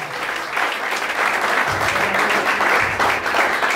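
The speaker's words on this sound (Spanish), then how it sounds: "Den un aplauso al Señor" A church congregation claps together in sustained, dense applause during a sermon, loud and steady with no talking over it.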